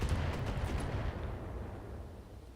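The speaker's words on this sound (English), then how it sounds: "They're shooting at me." Enemy mechs fire weapons in the BattleTech video game, a dense, continuous rumble of gunfire and blasts that stays loud and steady throughout, with no talking.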